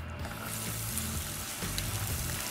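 Onions sizzling in hot oil with cumin seeds in a pan, a steady close frying hiss with soft crackles that continues without a break.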